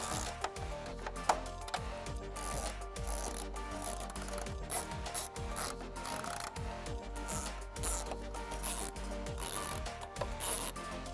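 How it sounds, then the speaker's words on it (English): A ratchet with an 8 mm socket tightens bumper support bolts on a 2021-2024 Ford Bronco Sport during a trailer hitch install, repeated quick clicking strokes in bursts, faint and close with a low background hum. "Now reinstall your six bolts with an 8 millimeter."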